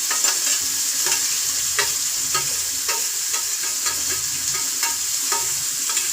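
Three large, finely chopped onions fry in a pan under a loud, steady sizzle, with frequent scraping and tapping of a spoon as they are stirred; no voices.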